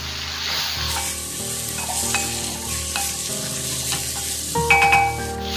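Bitter gourd pieces and mustard seeds hitting hot oil in a pan, a loud continuous sizzle and crackle with scraping stirring sounds and a brief flare of popping near the end.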